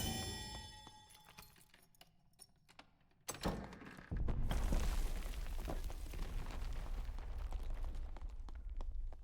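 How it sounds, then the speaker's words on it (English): A heavy rumbling crash like a mass of rocks crumbling and falling erupts in the Goblin Caves of Dark and Darker, preceded by quieter cave ambience with faint dings, then sustaining as a loud, dense rolling roar to the end. "that crumbling sound that sort of sounded like a bunch of rocks falling"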